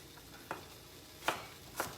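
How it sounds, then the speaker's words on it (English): Carrot and broccoli being stirred in a pan, three soft scraping clicks of a utensil over a faint background, with no clear sizzle. "I'm going to add my carrot and my broccoli. And I'm just going to go ahead and get those nice and sauteed down"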